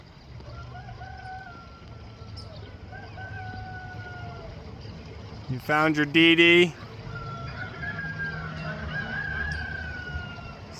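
A rooster crows loudly and briefly, close by, inside a greenhouse, standing out from a steady background hum, with faint bird calls and a brief spoken question before it.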